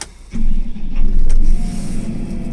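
The diesel engine of a Case IH Farmlift 935 telescopic handler cranks briefly, then catches and settles into a loud, steady idle close by.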